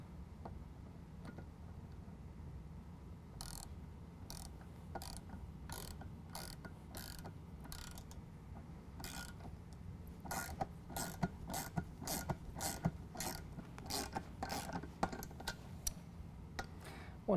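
Threads being cut into aluminum with a hand tap while installing a snow plow bracket, producing a steady series of ratcheting clicks and creaks that grow denser and louder toward the end, with no talking.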